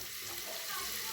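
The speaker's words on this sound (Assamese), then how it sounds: "এইখিনি ধুনীয়া ধুনীয়াকৈ লাহে লাহে ভাজি লৈছে" Vegetables and rice for a pulao frying slowly in a pan, a soft steady sizzle running evenly throughout, fairly faint and close.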